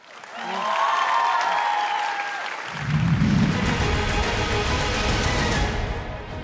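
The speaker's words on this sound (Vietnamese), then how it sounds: "xin một tràng pháo tay để chào đón lộc vượng" A theater audience bursts into sustained applause to welcome a ballet dancer onto a televised dance competition stage, the clapping swelling quickly and staying loud and dense, with a deeper surge of crowd noise joining partway through.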